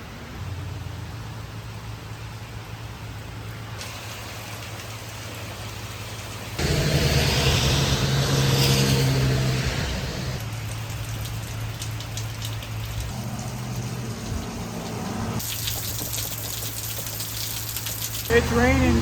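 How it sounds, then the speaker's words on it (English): Heavy rain pours steadily on a surface along the American Discovery Trail, a broad hiss that swells louder in the middle and shifts in texture, with faint background sounds mixed in. "It's raining pretty bad."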